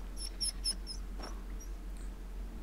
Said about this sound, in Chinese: 但是摸完后这小狗的叫声